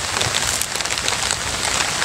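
Steady heavy rain with wind on a farm patters on surfaces with a constant broadband hiss, with no pauses and no talking.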